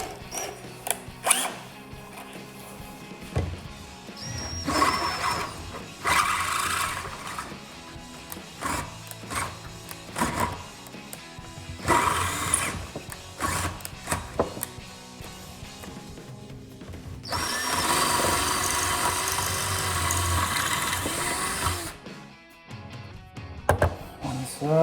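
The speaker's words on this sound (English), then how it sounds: "we're going to grab our 1/2 inch drill bit and just open that up a little bit." A power drill with a 1/2 inch bit enlarges a hole in a Synergy Manufacturing heavy-duty steering kit part for a Jeep Wrangler JL, held in a vise. Loud whirring bursts stop and start, with clanks and handling noises between them.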